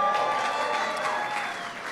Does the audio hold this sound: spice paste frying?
no